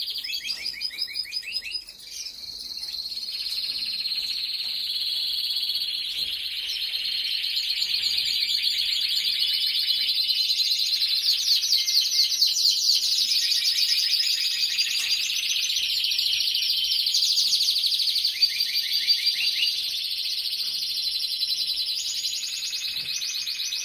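Caged birds, a male and a female, chirp and trill in rapid continuous bursts, bright busy song that swells and persists, fairly close with no voices.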